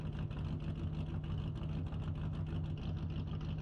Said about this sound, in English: the engines rev and the race begins